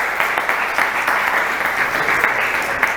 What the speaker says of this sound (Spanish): Dele pues un aplauso gigante al Señor, ¿vale?